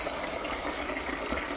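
Tap water pours steadily into a container at home, a constant close rushing and splashing with no breaks and no talking.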